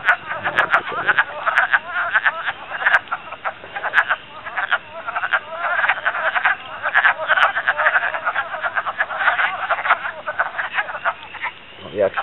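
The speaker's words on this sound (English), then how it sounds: "Spring peepers are in the distance, the wood frogs are right here." Wood frogs croaking close by in spring, dense repeated clucking calls in rapid overlapping bursts, with spring peepers faintly in the distance.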